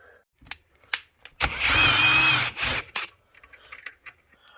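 A metal mounting part for an ATV V-plow is bent back by hand, giving a loud, sustained scraping and grinding strain lasting about a second, framed by sharp clanks and knocks of metal before and after.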